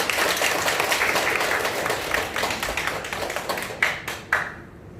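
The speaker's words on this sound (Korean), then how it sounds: "박수 부탁드립니다" An audience at a lecture event applauds with dense, steady clapping that thins into a few last claps before silence.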